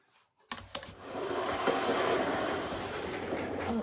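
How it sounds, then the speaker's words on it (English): A sewing machine stitches the side seams of a Burda 6442 garment, starting with a couple of clicks and then running as a continuous, fairly quiet rattling whir. "let's go to the sewing machine and sew these side seams together"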